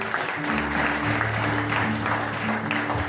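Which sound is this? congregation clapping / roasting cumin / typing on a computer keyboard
congregation clapping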